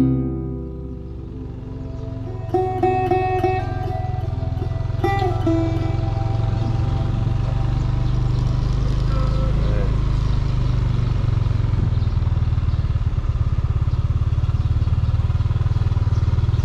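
A vehicle driving along a road into Pudto in the Philippines, a steady, loud engine drone that builds after a quieter start, with a few brief clattering sounds early on.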